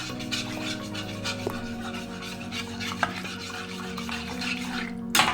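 A spoon stirs spices steadily into sambar in a pot, soft scraping and light clinks over a low continuous kitchen hiss.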